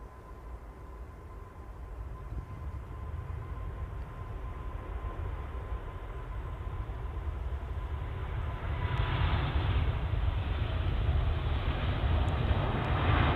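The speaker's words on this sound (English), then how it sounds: "A380 on the roll" An Airbus A380 rolls for takeoff on the runway at Manchester Airport, a broad, distant jet roar that builds steadily in loudness and turns harsher toward the end.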